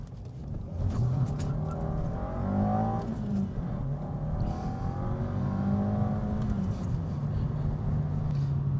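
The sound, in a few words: Alfa Romeo engine revving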